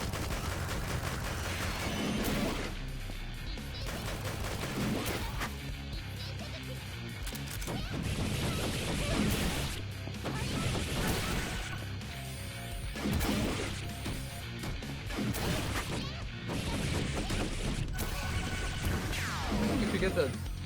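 Rocket launcher blasts and explosions from the video game Dead or School, as repeated loud crashing impacts across a dense, busy game mix with music underneath.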